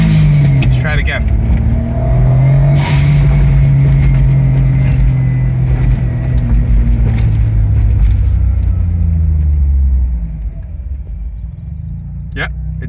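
A Suzuki Cara Autozam AZ-1 engine, newly fitted with a Keisport PNP, revs and then settles toward a steady idle, loud and close, while someone talks over it.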